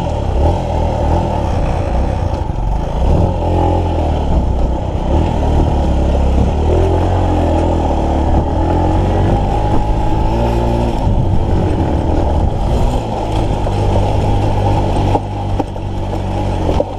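A Suzuki GD 110 motorcycle engine runs continuously through a forest trail ride, a low rumbling drone with a wavering pitch as it accelerates and eases off, mixed with clattering.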